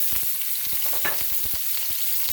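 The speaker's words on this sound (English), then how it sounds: "I'll let that fry up for the curry" Onion sizzling in hot oil in a pot for a curry, a steady bright crackle with a run of sharp spits and pops close by, no voices.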